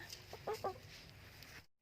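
Backyard chickens cluck in a short burst of a few quick, close clucks at a Thai garden farm, with a steady outdoor hiss underneath and no talking.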